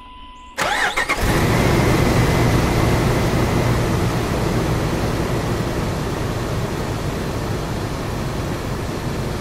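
A Jeep TJ or LJ engine cranks briefly, then catches and settles into a loud, steady idle close by, with no talking.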